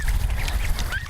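Ducklings in a rice paddy give quick, overlapping quacks and peeps against steady outdoor noise, close and fairly loud.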